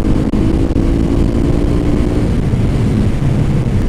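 A steady Honda CB 300R motorcycle engine drone runs throughout, loud and continuous, with a low rumbling tone that holds fairly even rather than rising sharply.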